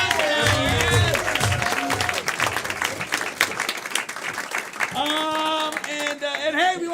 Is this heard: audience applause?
yes